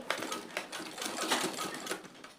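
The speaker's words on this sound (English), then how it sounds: "This is how you are going to sew each one" A sewing machine stitches bones into a bust cage, its needle chattering in a fast, steady run of rapid clicks with short pauses, fairly close and moderately loud, with no talking.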